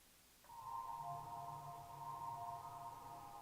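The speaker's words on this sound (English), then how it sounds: "I've got a really dramatic reverb on this little chordal patch." A sustained synth chord patch swells in after a short pause and hangs with a long, washy, heavily wet reverb tail, soft and steady.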